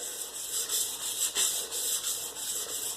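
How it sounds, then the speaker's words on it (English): A steel drawknife edge rubbed flat back and forth on sandpaper, a close, steady rasping scrape with short repeated strokes and no talk. "I'm just making sure that that edge is truly flat on the sandpaper like that"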